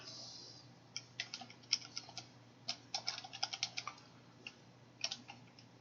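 Irregular bursts of quick keystrokes on a computer keyboard while code is typed, crisp close clicks in short clusters separated by pauses, quiet room, no voices.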